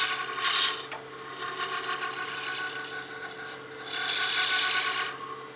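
A wood lathe turns a honeycomb blank, giving a steady rasping, rubbing scrape with two louder bursts of tool contact, one early and one near the end, close and alone.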